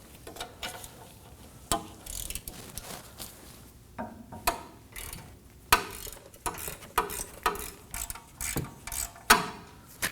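A ratchet with a 17mm socket backs two nuts off the rear knuckle of a 2017-2024 Nissan Armada, giving close, irregular bursts of quick clicking separated by short pauses, with no talk.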